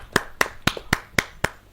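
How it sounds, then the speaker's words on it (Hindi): An audience at a Hindi kavi sammelan poetry gathering welcomes a poet with six sharp, evenly spaced claps in a steady rhythm, close and fairly loud. "जोरदार ताली के साथ हम स्वागत करें"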